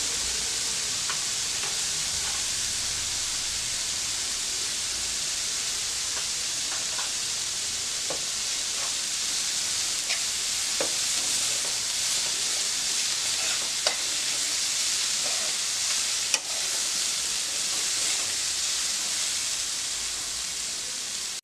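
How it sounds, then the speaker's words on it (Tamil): Cabbage and black chickpeas stir-fry with pepper powder in a pan, making a steady, bright hissing sizzle with faint occasional scrapes of stirring and no talk. "இப்போ மிளகுத்தூள் போட்டு கொஞ்சமாக கொத்தமல்லி தூவி ஒரு பிரட்டல் பிரட்டி எடுத்துடலாம்."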